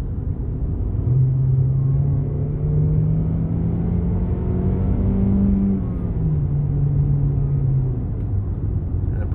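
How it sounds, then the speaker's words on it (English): A 2019 Jeep Renegade Trailhawk accelerates hard, its engine note climbing steadily in pitch through the gears and then easing off, heard from inside the cabin as a loud, continuous drone with road rumble underneath. "then I'm going to hit the accelerator pretty hard so you can kind of see what kind of reaction time it has"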